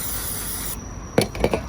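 A continuous aerosol brake cleaner hiss that cuts off abruptly, followed by a few short scuffing and clicking handling noises close by.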